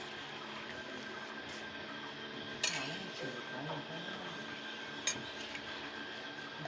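Mutton curry is mixed with ghee and garam masala in a pot, giving quiet scraping with two sharp metallic clinks of the spoon against the pot, no one talking.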